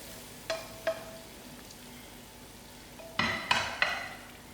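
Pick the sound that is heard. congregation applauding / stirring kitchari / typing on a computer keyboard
stirring kitchari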